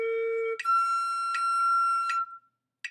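A flute plays a slow sequence of clear, pure held tones, each lasting about two beats, with short breaks between notes and a brief tongued note at the end, solo and close.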